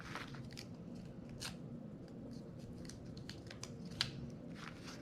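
Scissors snip and crunch through sheets of planner stickers in a series of quiet, close cuts, with faint papery rustling between them.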